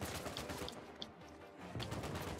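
AK rifle fire in the video game Uncharted 4, a dense wash of rapid gunfire and battle noise at low level, continuous throughout with a few sharper cracks standing out near the middle.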